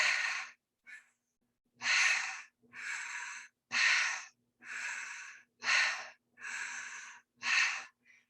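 Deep, rhythmic breathing through the mouth or nose, about nine long breathy inhales and exhales of even length and close to the mic, split by short silences.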